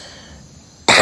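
A single loud, close cough from someone with a cold bursts out abruptly at the end after near silence, alone with no talk.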